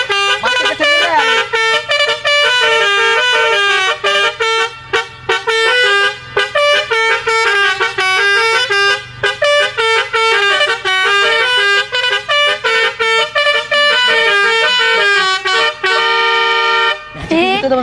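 Heard from inside the car, a Basuri musical car horn with an upper trumpet blares a long, loud melody of rapid shifting notes with brief gaps, playing continuously for the whole stretch before cutting off at the end.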